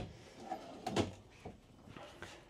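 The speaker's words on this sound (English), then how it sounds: "and three pull-out drawers." A few soft wooden pull-out drawer slides and bumps in a quiet fifth-wheel RV bathroom, with a louder knock near the middle and fainter movements after.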